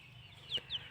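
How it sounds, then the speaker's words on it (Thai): A laying hen gives a couple of short, quiet clucks over a low background hum, close by. "ไก่ไข่นะคะ"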